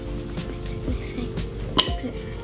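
Pancake batter is mixed in a bowl with a utensil, producing soft scraping and occasional clinks against the bowl, close by, with one sharper clink near the end and faint talk in the background.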